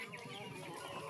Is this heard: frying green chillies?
no